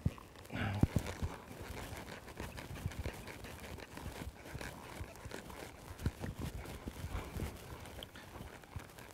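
A tense horse's hooves shuffle and thud on the ground close by, with restless movement and scattered knocks over steady background noise.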